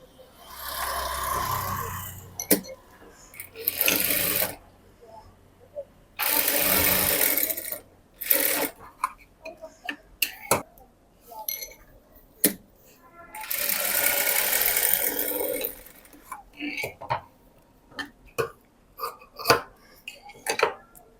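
Sewing machine stitching the joint of a blouse, running in several loud sustained bursts of rapid mechanical whirring separated by pauses with sharp clicks and handling noises.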